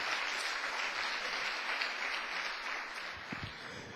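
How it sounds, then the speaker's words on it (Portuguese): A church congregation at a Pentecostal service claps together in a sustained, dense round of applause that fades slightly toward the end, heard from a moderate distance with no talking. "Pode dar uma salva de palmas para o Senhor."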